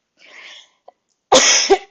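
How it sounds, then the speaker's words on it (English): A person gives a short, close cough, then a louder, harsher cough with a small catch at the end. "Excuse me, coughing."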